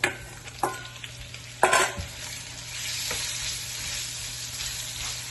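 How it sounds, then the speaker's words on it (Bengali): Chicken pieces fry in oil for a sweet and spicy korma while being stirred, with loud clanks of utensil against pan early on over a continuous close sizzle that settles into steady frying. "এখন আমি চিকেনগুলো দিয়ে চিকেনটাকে একটু কষিয়ে নেব"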